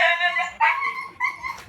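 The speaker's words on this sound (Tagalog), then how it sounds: "Mga aso ko guys maingay." Several pet dogs at home make noise together, giving high-pitched whining yelps and short barks in a few close bursts, loud and excited, with no human voices.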